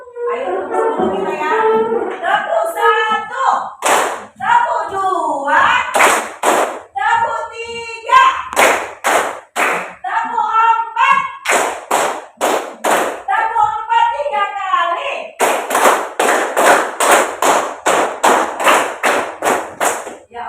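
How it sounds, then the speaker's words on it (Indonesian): Classroom of students clapping in unison, sharp rhythmic hand claps in timed bursts alternating with a teacher's chanted counting, then a long run of fast, loud, synchronized claps near the end. "Ayo tepuk dulu kita ya. Tepuk 1, tepuk 2,"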